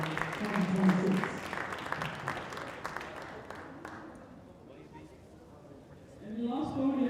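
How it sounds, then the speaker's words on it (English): A crowd at a competition finals applauds the winners, steady clapping filling the first few seconds and then fading out, with a presenter's voice heard over and after it. "Please give them a warm applause for winners DBIYO"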